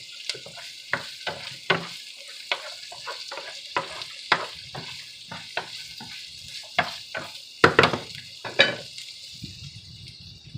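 Ground beef, pechay and beans stir-frying and browning in a pan, with steady faint sizzling broken by frequent scraping and stirring strokes of a utensil against the pan, heard alone.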